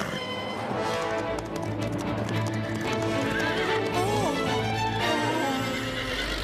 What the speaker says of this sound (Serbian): zamolio sam vas da ne plašite konje